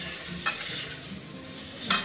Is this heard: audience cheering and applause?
no